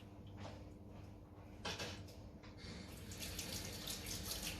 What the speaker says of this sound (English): So let me just go and wash my hands